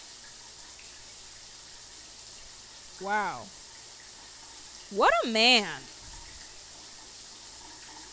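Steady hiss of a shower running in The Sims, constant throughout, with a voice talking briefly over it.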